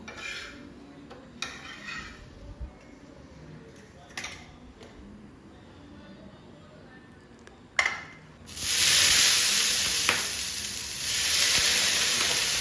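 Quiet scraping and a few clinks, then a sudden loud sizzle as green moong dosa batter hits a hot griddle, hissing steadily and swelling again near the end.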